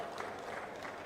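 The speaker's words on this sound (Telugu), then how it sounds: "గట్టిగా చప్పట్లు కొట్టి అభినందించండి." Audience applause at a government event distributing land passbooks to farmers, a brief, even wash of many hands clapping together without a break.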